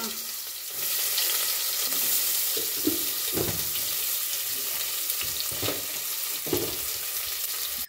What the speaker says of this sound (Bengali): তারপর কড়াইয়ে একটু বেশি তেল দিয়ে ওই ম্যারিনেট করে রাখা চিংড়িগুলো ভালো করে ভাজতে হবে।